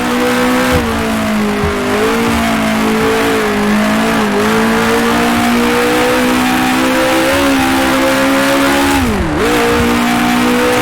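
A 1966 Formula One car engine in the racing game Grand Prix Legends screams loudly and up close, holding a high whine through gear changes and dipping sharply near the end before climbing again.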